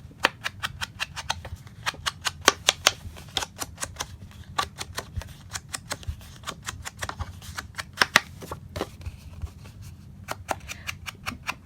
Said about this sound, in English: now I want to sponge the edges